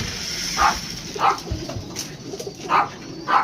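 Racing pigeons cooing near their coop after feeding: soft, close, repeated low coos in an even rhythm, about five calls over a few seconds, over faint background noise.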